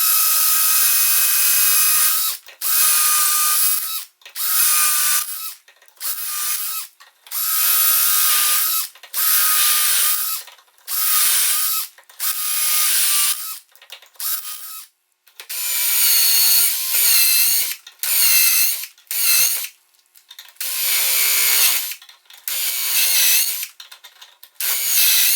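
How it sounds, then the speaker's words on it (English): A Worx AI cordless drill whirs loudly into wood in repeated bursts, each run a few seconds long, separated by brief pauses. "but I'll start with the AI drill."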